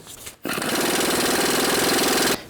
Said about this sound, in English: Use a 21mm socket, remove the nuts.